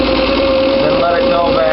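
A rollback truck engine in the Rigs of Rods game holds a steady raised idle near 2,500 RPM, a constant mid-pitched drone with a faint rising tone, close and loud with no pauses.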